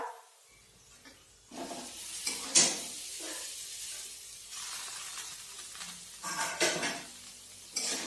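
Boiled potato pieces are tipped into a sizzling spiced mixture in a pan and stirred for a Marathi-style potato bhaji, with soft frying hiss, scraping spoon strokes and a few clanks against the pan.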